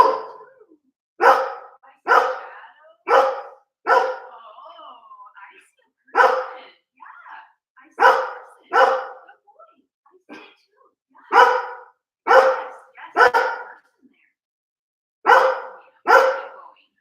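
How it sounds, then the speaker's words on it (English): A dog named George barks in short, loud single and double woofs with uneven gaps between them, close and with no other sound between barks. "There he goes. He's barking again."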